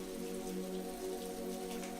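Rain falls steadily in a park, a dense, even patter of drops hitting leaves and ground, close and continuous with no voices, with faint soft tones sitting beneath the shower.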